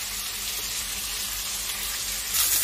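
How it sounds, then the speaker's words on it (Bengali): Pointed gourd (potol) frying in oil in a pan makes a steady, close sizzle, swelling slightly louder toward the end, with no voices. "একটু ঢাকা দিয়ে আমি ভালো করে পটলগুলো ভেজে নিচ্ছি।"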